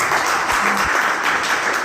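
Applause from a seminar audience in Akhgaon, Bhojpur, Bihar, a steady, fairly loud wash of clapping that holds for under two seconds.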